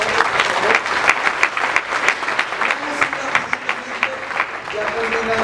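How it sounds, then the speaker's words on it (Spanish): At an evening service in a Christian temple in Apopka, Florida, the congregation gives sustained, lively applause with scattered voices and cheers mixed in throughout. "Denle un aplauso al Señor en esta noche"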